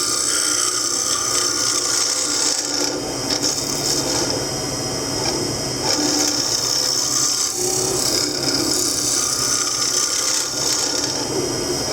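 A walnut wood blank is worked by hand with a rasping, scraping tool, a continuous gritty rubbing with rhythmic strokes that swell and fade, close and fairly loud.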